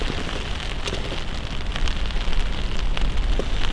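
Rain falls on the surface of Esthwaite Water in spring, a dense, steady hiss of drops close around, with no voices.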